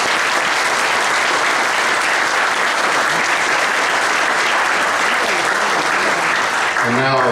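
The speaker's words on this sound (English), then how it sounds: "let's give one more round of applause for all of our players here" Sustained applause from a large crowd at an association's annual meeting, honoring players, dense clapping holding steady throughout before easing off at the very end.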